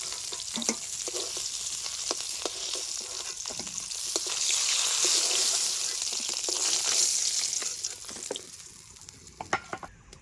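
Chang fish frying in hot oil in a home kitchen, a steady loud sizzle with scraping and stirring taps, the hiss swelling in the middle and then fading as the fish is lifted out.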